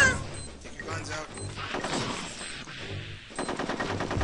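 Gunfire in Conker's Bad Fur Day, rapid machine-gun bursts and repeated shots in a busy game mix, with a voice talking over parts of it.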